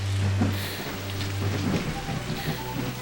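Steady rain pours down with a dense hiss over a low rumbling background, continuous and fairly loud, with no voices.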